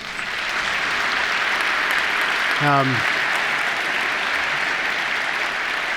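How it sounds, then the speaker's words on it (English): Audience applause for panelists at a real estate trends conference: a sustained, dense burst of clapping filling the room from start to finish, with a brief voice cutting in about halfway through. "A big round of applause to our panelists."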